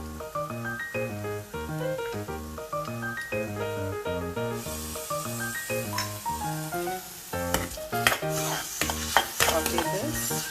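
Onion with ginger garlic paste and salt sautés in a pan, a soft sizzle and stirring scrapes rising under background music, with sharper clatters of a spoon near the end.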